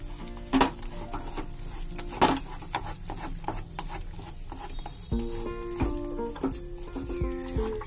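Melted jaggery and sesame seeds stirred in a pan over low heat for ladoos, soft sizzling with spoon scrapes and a few sharp clinks against the pan, quiet and close, no talk.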